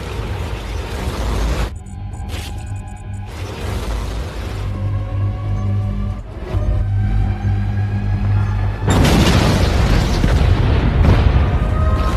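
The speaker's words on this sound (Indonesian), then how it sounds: "Di awal film diberitakan terjadinya ledakan di PLTN atau pembangkit listrik tenaga nuklir di Haiwan, Cina." An explosion at a nuclear power plant in China in the thriller film Blackhat comes as a deep, heavy boom with a long rumbling roar, followed by a second loud surge of blast noise toward the end.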